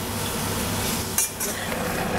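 Cloves and cinnamon caramelize in a pan for a plum compote. A dense, even sizzle runs throughout, broken by a short clatter of stirring near the middle.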